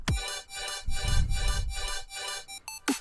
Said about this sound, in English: And then I have this melody, which is literally just a square pluck with some volume automation and reverb automation.